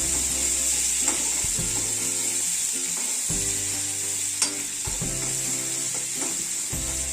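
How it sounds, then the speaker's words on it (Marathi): Potato frying in hot green chillies in oil: a loud, steady crackling sizzle, close up, with repeated clinking stirs and scrapes in an irregular rhythm, no voices. "तापलेल्या मिरचीमध्ये बटाटा टाकायचा, म्हणजे ते चांगलं लागतं बटाटा।"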